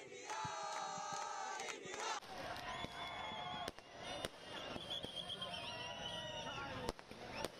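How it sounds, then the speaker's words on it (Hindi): A crowd celebrating India's cricket World Cup win with dancing and singing, loud dense outdoor cheering and chanting mixed with sharp firecracker bangs bursting at intervals throughout. "तोष चतुर्वेदी भी भीड़ का हिस्सा बन चुके हैं, जीत का जश्न वो भी नाच गाकर मना रहे हैं।"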